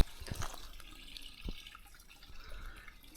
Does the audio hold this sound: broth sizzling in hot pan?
no